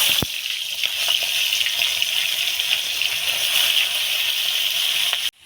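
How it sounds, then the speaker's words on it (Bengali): Fish hits hot mustard oil in a wok and breaks into a loud, steady hissing sizzle close by, holding evenly for several seconds before cutting off abruptly. "লড়াটা গরম হয়ে গেছে, দিয়ে দিব মাছ।"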